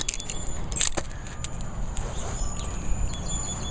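Keys for a 2006 Chevrolet Cobalt SS Supercharged jangle in short bright bursts, close by, over a low steady hum with no talking.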